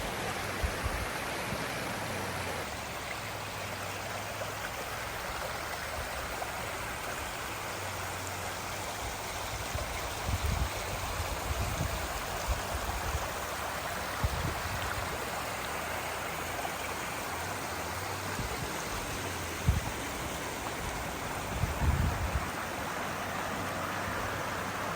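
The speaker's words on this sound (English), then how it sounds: "But beautiful creek." A creek flows in the Ozark Mountains in cold weather, a steady, soft wash of running water that goes on unbroken for the whole stretch, with occasional faint low bumps and no speech.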